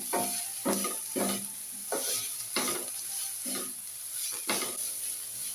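Cabbage frying in oil in a pan crackles steadily, with a spatula scraping and stirring in regular strokes about every half second, heard close up without speech.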